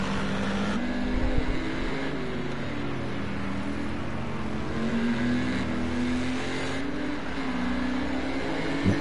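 Racing cars in a wet GT4 round at Catalunya, including Porsches and an Aston Martin, drone steadily down the front straight as a continuous loud engine roar with rising gear tones throughout.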